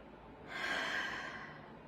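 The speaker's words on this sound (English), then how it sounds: "Take a deep breath." A single deep breath taken during a child's pose back stretch, rising into a broad, airy inhale around the middle and easing off, close and fairly quiet with no talk.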